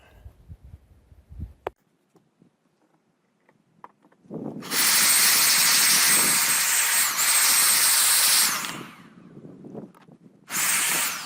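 Compressed air blasting through an old fan during cleaning, two long loud hissing bursts after scattered handling clicks, the second burst brief and cut off at the end.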